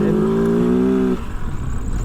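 A 2023 Kove FSE 450R Rally motorcycle engine is held at high revs in sand for about a second, then the throttle snaps shut and the note drops to a rough, uneven burble.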